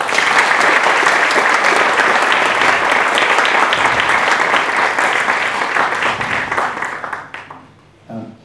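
A large audience at a legal talk by defence lawyers Goran Petronijević and Toma Fila gives long, loud, dense applause that holds steady for about seven seconds, then fades out with a few scattered final claps.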